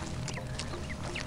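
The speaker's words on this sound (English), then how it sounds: "All the ducks!" Several ducks quack in quick, overlapping calls from a novelty website, a busy, slightly muffled flurry of nasal honks with no talking.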